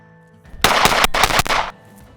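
A Sig P320X Carry pistol fired in a fast string at a range: a single loud, close burst of about six rapid shots packed into roughly a second, with quiet before and after.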